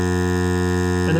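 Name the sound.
DeWalt Grabo vacuum lifter running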